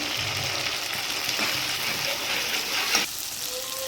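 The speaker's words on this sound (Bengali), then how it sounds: "এই তেলেই আমি গোটা গরম মশলা আর তেজপাতা ফোড়নে দিয়ে দিলাম" Whole garam masala and bay leaves sizzle in hot oil, a steady, close frying hiss with a brief bright crackle near the end and no talk.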